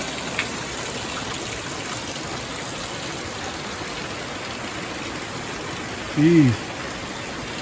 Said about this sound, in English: So yeah, this morning it rained a lot.